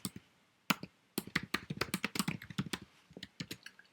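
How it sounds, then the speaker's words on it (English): Keys clatter on a computer keyboard as someone types a question, with short irregular bursts of close taps, brief pauses, and a louder key strike at the end. "I'm going to type the question I want to ask my students"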